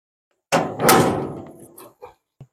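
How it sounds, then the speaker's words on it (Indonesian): Someone opens the left side door of a Komatsu PC200 excavator: a loud metallic latch clunk and swinging door panel sound, followed by two short knocks as it settles. "Kita buka pintu sebelah kiri"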